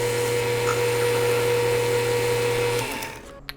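A lathe drills a bore for a Time-Sert thread insert while repairing a Kobalt air compressor regulator. It runs as a steady, loud whine, then winds down and stops near the end, with no talking.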